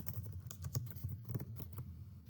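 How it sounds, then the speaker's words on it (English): Fingers tap quickly across a computer keyboard, a quiet, close run of uneven clicking keystrokes with no talking. "I'm going to type my name again."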